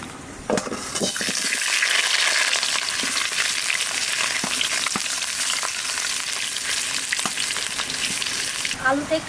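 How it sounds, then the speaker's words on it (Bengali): Potatoes fry in hot oil in a wok, a loud continuous sizzle with occasional sharp crackles and clicks, no talking. "কড়াই গরম হয়ে গেছে, তেলটা দিয়ে আমি আলুটা ভেজে নিই।"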